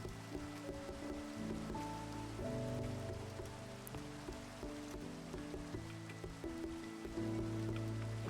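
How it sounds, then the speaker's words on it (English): Steady patter of rain in the Minecraft video game, a soft continuous hiss running under calm melodic game music for the whole stretch. "I absolutely love the rain in Minecraft"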